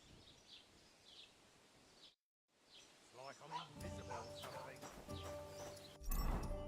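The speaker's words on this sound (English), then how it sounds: "I'm gonna get on my horse." Horse in the game Kingdom Come: Deliverance 2 clip-clops at a steady walk with birdsong around, the hoofbeats continuing under game music and a voice later in the scene.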